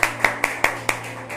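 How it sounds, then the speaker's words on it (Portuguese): Several loud, sharp hand claps ring out in a steady, slightly uneven rhythm inside a church, close and reverberant over a low background hum, tailing off after the fifth clap. "E a igreja diz amém e aplaude o Senhor Jesus"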